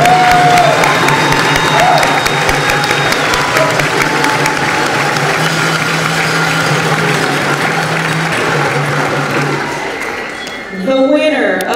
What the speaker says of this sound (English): Please give a round of applause to these great organizations.